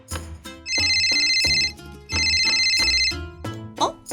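A phone ringtone in a Roblox game, two long bright electronic ringing bursts separated by short pauses, loud and clear, with brief voice sounds around them.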